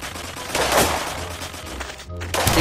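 Pistol shots in a first-person shooter game, loud and close, a few sharp cracks spaced unevenly among rumbling battle noise.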